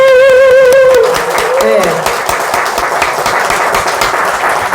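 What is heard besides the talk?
congregation applauding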